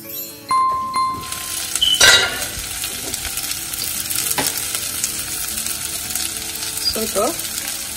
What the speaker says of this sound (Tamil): இப்போ லிட் போட்டு எவ்ரி 1 மினிட் ஓப்பன் பண்ணி மிக்ஸ் பண்ணிகிட்டே இருக்க போகிறோம்.